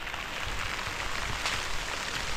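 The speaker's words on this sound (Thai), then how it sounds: "ตอนนี้ฝนกำลังตก" Rain falls in a forest during a May storm. A steady, dense hiss of drops on leaves and surfaces runs evenly throughout, fairly soft and without voices.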